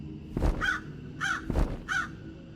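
A large crow caws in a dark horror setting: four harsh, loud caws in two pairs, close by, with no talking.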